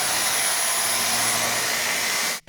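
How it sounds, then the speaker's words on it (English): Vacuum cleaner running on its medium setting, a loud, close, steady whooshing roar with a faint high whine that holds constant and cuts off abruptly at the end. "I have gone ahead and whipped out the vacuum cleaner"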